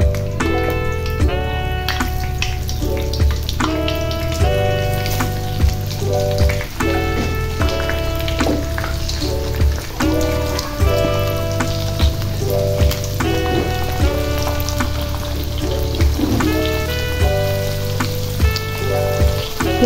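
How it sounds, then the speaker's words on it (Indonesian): Eggs fry in a pan until crisp, a continuous hissing sizzle running the whole time beneath louder melodic background music with steady rhythmic notes. "Kita goreng sampai garing ya,"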